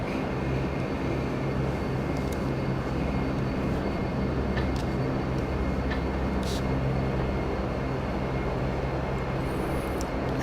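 A Majestic Q400 turboprop taxiing in FSX, a steady droning engine hum with a low rumble, continuous and even, with faint clicks above it.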